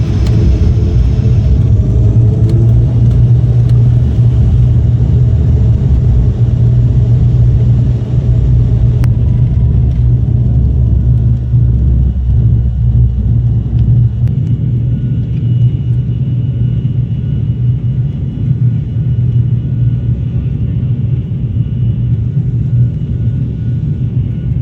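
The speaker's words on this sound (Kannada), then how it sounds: "ಅರ್ಧ ಗಂಟೆ ಆದಮೇಲೆ ಟೇಕ್ ಆಫ್ ಆಗ್ತಿದೆ ಫ್ಲೈಟು" Heard from inside the cabin, a passenger jet rolls for takeoff with a loud, steady low engine roar and rumble that shifts tone partway through, no voices.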